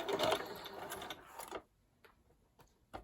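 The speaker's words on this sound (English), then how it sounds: "We're going to start sewing on the bottom, right at that seam." A sewing machine runs a half-inch seam along the bottom of a washable fabric face mask, a fast close buzzing stitch for about a second and a half, then stops, leaving faint handling clicks.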